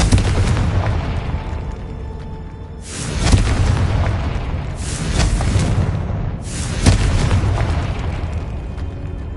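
In Hogwarts Legacy, three Confringo spell explosions erupt as loud, booming bursts a few seconds apart, each a broadband blast that fades into a rumbling roar, with no talking.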